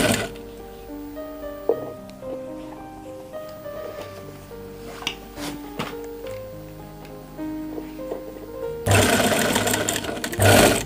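An electric sewing machine stitches a gent's kurta, running in steady mechanical bursts with pauses between runs, then a louder, rougher whirring stretch near the end.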